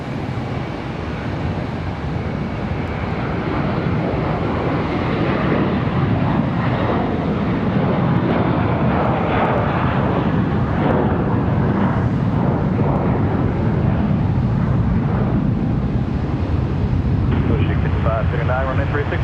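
An Airbus A321 jet takes off from Runway 36 at Charlotte Douglas International Airport, a loud, continuous engine roar with wind buffeting, heard from a parking garage, while people talk over it.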